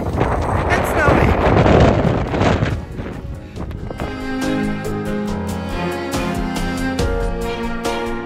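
Cold, snowy wind gusts outside Reykjavik airport in Iceland, buffeting the microphone with loud rushing roar, then giving way to quieter background with tonal hum and scattered clicks.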